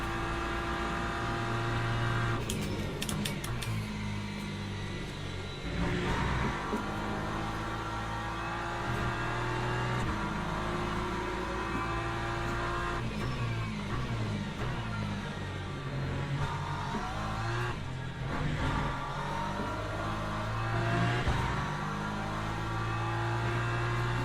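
Race car engine in Le Mans Ultimate during a WEC championship race with rain coming, a continuous tonal drone with repeated shifts and brief surges in pitch, steady and fairly close, with no talk.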